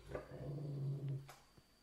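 Big dog growling low and steady at a new puppy, a sustained near rumble with a brief whimper and a soft yip at the end, no talking.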